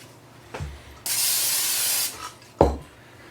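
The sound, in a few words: cooking spray sprayed into mixing bowl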